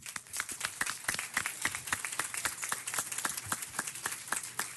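Applause at a city council meeting for Dr. Lucy Jones, heard as fairly sparse, distinct claps from a small group, moderately quiet and somewhat rhythmic.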